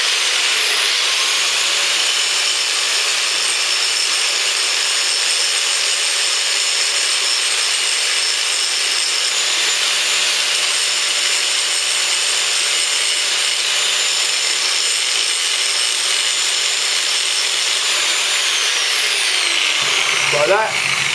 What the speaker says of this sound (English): Get your old trusty angle grinder, put your glasses on again, and just take the paint off the bottom.